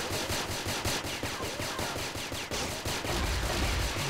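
Video game gunfire from a powerful gun, as in an online shooter, rattles in dense rapid bursts close and loud, continuing steadily for several seconds with no talking.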